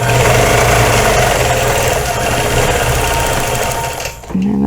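A sewing machine hums loud and continuous while free-motion quilting a feather design on a double wedding ring quilt, then winds down and stops near the end.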